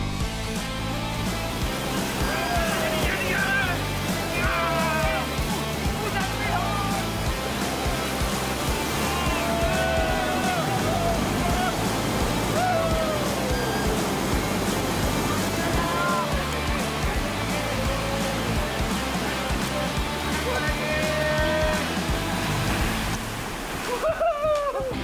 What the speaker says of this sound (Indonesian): jom kita pergi water rafting